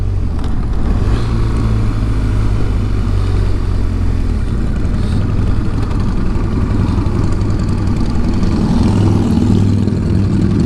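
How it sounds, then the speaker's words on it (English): Steady engine rumble of a big Harley-Davidson motorcycle rolling by nearby, loud and continuous, with a low throaty drone and slight swells in intensity. "there goes a big Harley"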